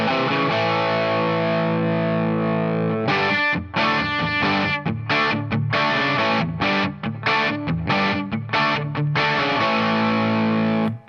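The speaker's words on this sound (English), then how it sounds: "We're going to start off with this opening kind of bluesy figure for the intro." Distorted electric guitar plays a bluesy opening figure, starting with a sustained ringing chord and then moving into choppy, rhythmic riffing with frequent short stops, loud and alone.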